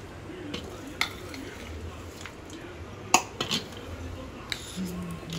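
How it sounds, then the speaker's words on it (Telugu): Cooked rice mixed with a tempering of green chillies in a pan, a spoon scraping and clinking against the metal in irregular knocks over a soft sizzle, close by with quiet background noise. "పోపు దీంట్లో యాడ్ చేసిన తర్వాత మొత్తం అంతా మిక్స్ చేసేసుకున్నాం"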